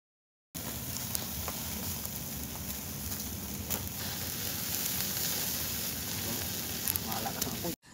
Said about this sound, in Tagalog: inumpisahan ng ihawin tong liempo